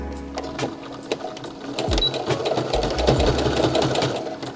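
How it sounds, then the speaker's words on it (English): Close sewing machine stitching a long folded seam over bias tape on a summer dress, starting and stopping briefly before settling into a fast, steady rattling run. "I will just keep on folding and stitching all the way over that very, very long line."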